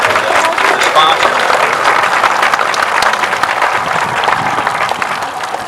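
An audience gives a round of applause after a sponsor's talk at an event, a loud, thick burst of clapping that stays full for several seconds and then thins slightly toward the end.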